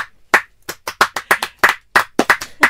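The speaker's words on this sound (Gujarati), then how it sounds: "એમને તાળીઓથી વધાવી લો" Clapping welcomes actors at a Gujarati film event, a dozen or so sharp, distinct claps at an uneven rhythm, close and alone with no talking.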